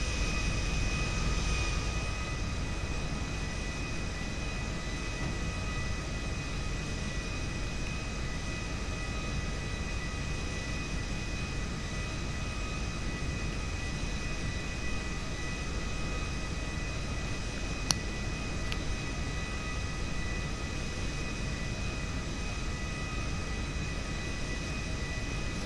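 A plane sits after landing in Grand Theft Auto V, its engine giving a steady, loud broadband roar and hum that holds evenly throughout with no talk.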